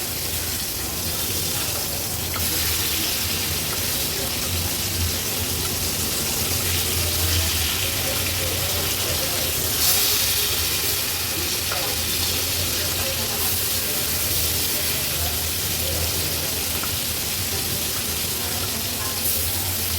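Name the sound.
boita fish frying on a tawa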